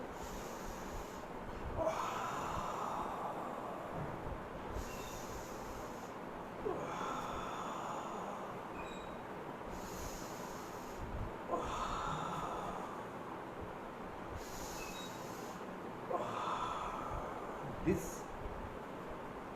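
Deep yoga breaths drawn slowly through the nostrils, heard as a steady cycle of about four long, airy inhales and exhales spaced several seconds apart, close and clear.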